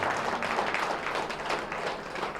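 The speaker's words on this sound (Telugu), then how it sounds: "నేను ఒకసారి గట్టిగా క్లాప్స్ కొడదాం." Audience applause at an outdoor vegetarian rally for animals in Vinukonda, a steady, dense wash of many hands clapping throughout, moderately loud and unbroken, with no one speaking over it.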